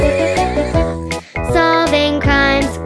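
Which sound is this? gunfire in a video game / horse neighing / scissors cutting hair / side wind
horse neighing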